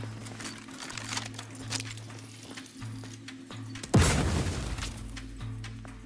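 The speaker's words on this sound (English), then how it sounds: "Explosion." An explosion in The Outer Worlds 2 on very hard difficulty bursts midway as a sudden loud boom with a crackling, decaying tail over low game ambience and a droning hum.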